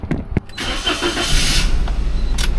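A car engine cranks and catches, a couple of sharp starter bursts giving way to a steady running rumble close by, with no voices.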